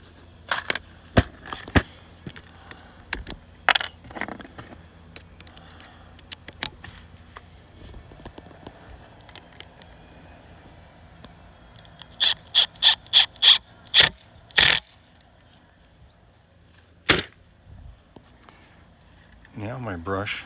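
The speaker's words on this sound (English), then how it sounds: "Then I'm going to take that screw and I'm going to put it in there." Short stainless steel screw driven into a brush handle: scattered close ratcheting clicks, then a quick burst of several rapid clicks, with a voice speaking between the bursts.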